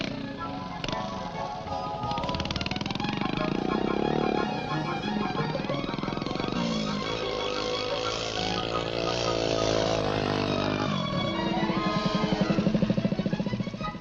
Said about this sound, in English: Here he is after riding for only 4 months on a miniature 50cc scrambling bike built by his father